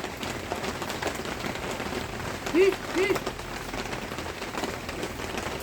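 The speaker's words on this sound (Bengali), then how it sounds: "আর এই দিকে দেখুন ঝমঝমে কেমন বৃষ্টি পড়ে যাচ্ছে দেখুন" Heavy rain pours steadily outdoors near a village kitchen, a dense even hiss of drops drumming on surfaces, with faint voices and a brief clatter in the middle.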